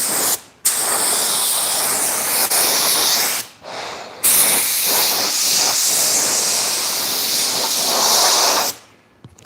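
A spray gun hisses steadily while painting a car bumper in hot weather around 85 degrees, the loud continuous spray broken by a few short pauses between passes.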